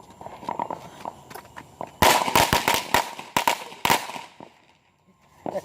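A string of firecrackers goes off outdoors, a fast, irregular burst of sharp cracks and pops lasting about two seconds, loud and nearby, after a few softer crackles.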